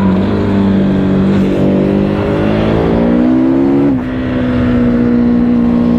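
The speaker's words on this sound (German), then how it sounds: "Ich gebe einfach Gas und zack." A KTM 1290 Super Adventure S motorcycle accelerates hard on a road toward Austria. Its loud, close engine note climbs steadily in pitch, dips briefly at a gear change and then holds strong, with no talking.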